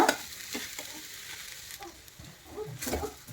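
Rice-flour roti with chana dal cooking in oil on a pan gives a soft, steady sizzle, with a few scraping stirs and brief crackles near the start and end.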